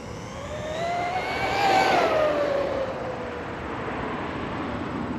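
An Arrma Quake 2WD radio-controlled car speeds past with a high-pitched electric motor whine that rises and then falls in pitch, peaking loudly as it passes close and trailing away afterwards.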